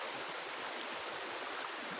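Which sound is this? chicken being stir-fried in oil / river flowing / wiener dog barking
river flowing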